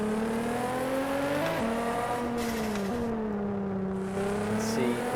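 Car engine in the No Hesi driving game, steadily droning and revving with pitch rising and dipping through gear changes, loud and continuous.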